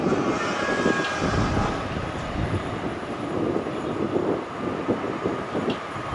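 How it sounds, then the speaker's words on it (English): An eastbound train to Abbey Wood approaches the platform at Custom House, a steady loud rumble and rush of rolling stock with faint high squeals, continuous throughout. "train now approaching platform A, your eastbound service to Abbey Wood"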